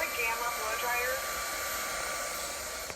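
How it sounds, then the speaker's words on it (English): A Gamma professional blow dryer runs continuously at close range, a steady loud airy whoosh with a motor whine that cuts off at the very end. "Yes, this is a Gamma professional blow dryer."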